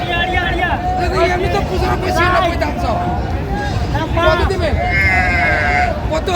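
A busy cattle market at Aftabganj haat in Dinajpur, with cows, calves and sheep bleating repeatedly over a dense crowd babble and someone speaking nearby, loud and constant throughout.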